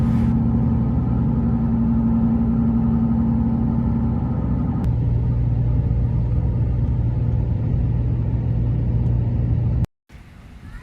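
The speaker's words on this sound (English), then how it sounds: "they're just getting loud and the rubber is getting old, and you could hear them in the cab pretty loud" Steady, loud road rumble from aging, worn Yokohama Geolandar AT-XD all-terrain tires, heard from inside a truck cab while driving, with a continuous low drone that drops out abruptly near the end.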